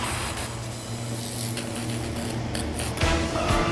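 Zurg's weapon in the video game Disney Heroes: Battle Mode sprays enemies and tanks with a continuous hissing, crackling stream of rapid fire, steady and dense for several seconds with a sharper surge near the end.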